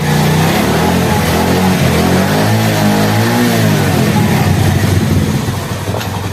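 A Honda CD 70 motorcycle engine revs up and down close by, its throttle rising and falling in a steady, continuous drone with no talking over it.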